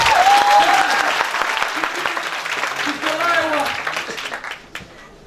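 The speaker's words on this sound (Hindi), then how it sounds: "सब जबरदस्त, एक बार तालियां" Audience applause after a teacher's call to clap at a classroom session, a dense burst of many hands that fades out over about five seconds, with voices calling out over it.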